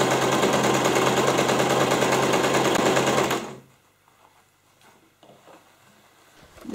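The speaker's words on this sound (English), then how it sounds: "we're going to turn over and sew to the entire length on the other side as well" A sewing machine stitches rapidly and loudly along the length of a recycled jeans handbag panel for about three seconds, then stops, leaving quiet handling noises.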